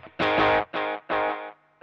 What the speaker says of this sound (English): right now I have this set to an echo rec, and I have a dotted eighth on one side and quarter notes on the other